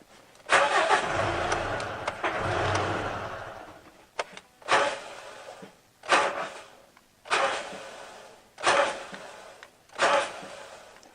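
Mitsubishi Triton engine cranking: one long grinding crank attempt followed by five short, evenly spaced bursts of cranking, close and loud, with no catch.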